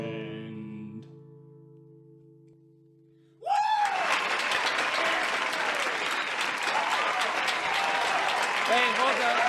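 A live audience bursting into loud applause after a song about a turtle, the sustained last note of the music fading before dense clapping and cheering take over and continue strongly.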